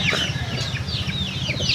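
Game fowl brood stags on a game farm cluck repeatedly in short bursts over a steady low farmyard hum, with no talking.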